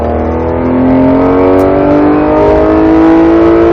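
A Porsche GT3 RS engine roars at high revs, loud and close, its pitch climbing steadily as it accelerates without letting up.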